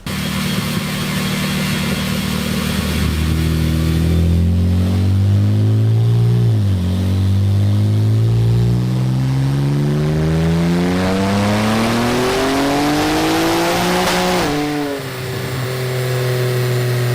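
Infiniti Q50 with a VR30 twin-turbo V6 on a dynamometer at higher boost, running port injection and VRX80B turbos, revs steadily upward in one long, loud wide-open pull before the throttle snaps shut and the engine drops back to idle.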